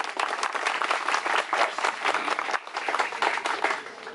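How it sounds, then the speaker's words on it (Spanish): A crowd at a groundbreaking ceremony for a high school in Vicentillo breaks into loud, dense applause for the civil governor, sustained throughout without speech. "con un fuerte aplauso"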